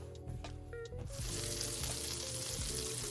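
Butter melts and sizzles in a pot over medium heat as broccoli cheddar soup gets started, a steady close frying crackle that swells after a quieter first second.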